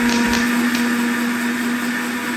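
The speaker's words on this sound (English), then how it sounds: "So oats into a liquidizer, not a blender." A liquidizer whirring steadily as it mills oats into flour, a loud, continuous motor drone close up with no pauses.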